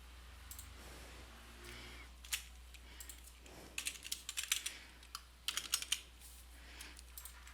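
Scattered then quicker clusters of key clicks as a password is typed on a computer keyboard, close and fairly quiet over a low steady hum, with no one speaking.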